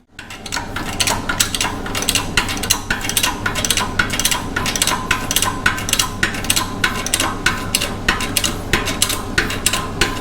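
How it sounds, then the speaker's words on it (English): A steel bushing being pressed into a steering yoke for a 1942 Farmall H tractor in a machine shop, heard as a continuous rapid ratcheting, clicking mechanical chatter, steady and fairly loud throughout with no speech. "all I need to do here is just cut this to length, dress the cut off end, and we'll press it into the yoke"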